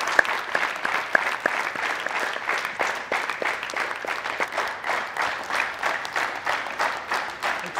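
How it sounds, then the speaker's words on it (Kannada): A studio audience on the Kannada quiz show KBC claps in a dense, sustained burst, steady and fairly loud throughout, with no voices standing out. "please with a huge applause, don't stop clapping"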